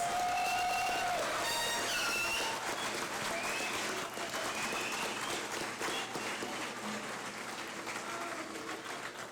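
At an awards ceremony, an audience applauds the Outstanding Airmen of the Year nominees, a sustained roar of clapping from a large crowd that starts loud and slowly tapers, with a few brief tones at the start.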